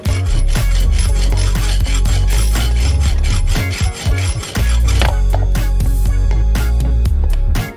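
A metal mounting bolt for a smartphone holder is cut down with rapid, loud back-and-forth rasping strokes, close up, with a brief pause midway before the strokes resume.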